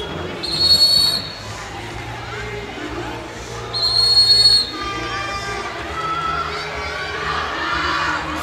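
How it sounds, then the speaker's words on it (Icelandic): A referee's whistle at a youth handball cup final between Haukar and HK sounds two sharp blasts a few seconds apart over a noisy crowd of shouting children and cheers in an indoor hall. "Flauta á þá."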